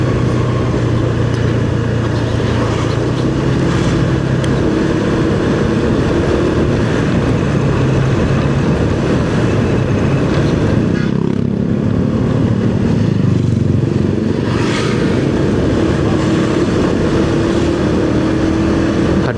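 Cars of a wedding convoy rolling past on a busy town-square road in Bogor, a continuous loud engine and traffic rumble with tires and horn-like tones drifting through.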